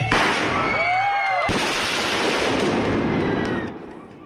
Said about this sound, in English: Fireworks and pink smoke were set off at a popular family restaurant